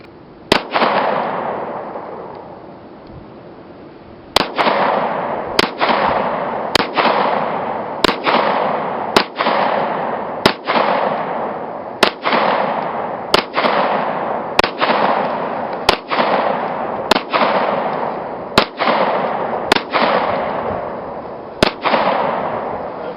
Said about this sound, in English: So I'm just going to shoot this block, this reactive target.